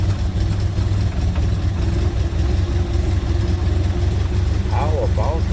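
A 1925 Ford Model T engine running after starting, a loud, steady low rumble and chug that holds even throughout, with a voice briefly audible near the end.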